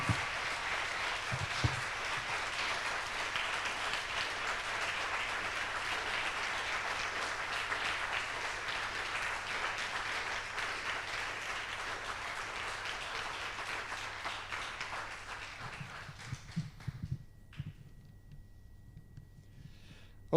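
Sustained audience applause at a community open day for a marine research institute, dense steady clapping from a large crowd that fades out near the end.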